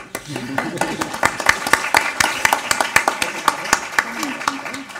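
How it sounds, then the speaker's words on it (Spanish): At a medical conference panel on adult vaccination, a small audience claps steadily, individual sharp claps spaced close together, with a voice speaking underneath at times. "yo creo que mereces un aplauso"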